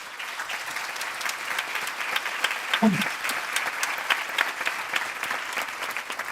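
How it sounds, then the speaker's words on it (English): Meeting attendees at a board of directors meeting give staff a round of applause, a steady mass of clapping at moderate distance with a brief low thump partway through. "So Cynthia and to all of the staff, I want to give you all a round of applause."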